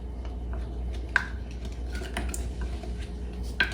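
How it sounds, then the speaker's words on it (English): Spoon scraping and clinking against a bowl while sweet potatoes are stirred in a brown sugar coating, with a few sharp metallic taps over a steady low kitchen hum. "Stir this up good."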